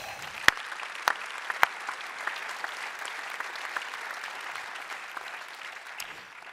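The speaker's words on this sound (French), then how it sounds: "On peut applaudir quand même." An audience at a conference event breaks into applause, a dense patter of clapping from a moderately sized crowd with a few sharp, close claps standing out, sustained evenly throughout.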